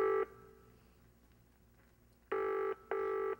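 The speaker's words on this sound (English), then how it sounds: "Come on, Margot, answer the phone." Telephone ringing in an old radio crime drama: one long electronic ring at the start, then two closely spaced bursts near the end, loud and clear with no talk over it.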